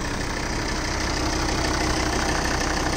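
A Volvo XC60's fairly small engine idles steadily and loudly, a continuous low rumble with a faint knocking texture and no voices.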